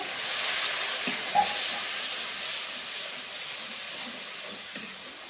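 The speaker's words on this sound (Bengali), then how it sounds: "এটা 2 মিনিট ভেজে নেব। হালকা জল দিয়ে দেবো।" Turmeric, salt and spices fry in a pan with a splash of water, giving a steady, soft steamy hiss with faint ticks and pops throughout.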